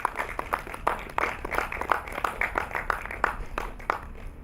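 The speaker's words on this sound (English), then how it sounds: "Please clap for yourself, please." A film-screening audience claps in a loose, uneven patter of fairly close hand claps that goes on for several seconds without a clear beat, with no talk over it.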